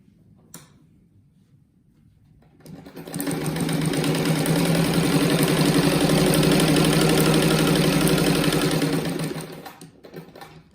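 A sewing machine stitches cotton fabric scraps together for a patchwork rug, running steadily and fairly loud for about six seconds after a quiet start, then stopping, with no one speaking during the run.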